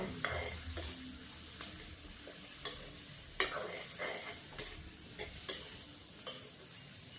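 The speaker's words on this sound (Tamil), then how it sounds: "கொஞ்சம் கரைமிளகாம் வதங்கணும்" Red chilies sautéing in a pan, a soft steady sizzle under repeated scraping and stirring strokes of a spoon against the metal, with one sharper clink midway and no talking.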